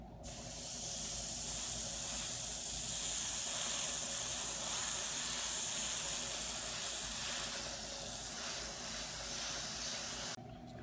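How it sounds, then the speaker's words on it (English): A spray can sprays NATO black paint onto the tracks of a 1/35 Trumpeter T-64A model tank, one continuous close, loud hiss lasting about ten seconds before stopping abruptly, with no talking. "we're going to go ahead and do and spray that with the NATO black as well while we have it out"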